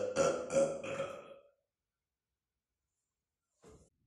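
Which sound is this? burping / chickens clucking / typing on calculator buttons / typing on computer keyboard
burping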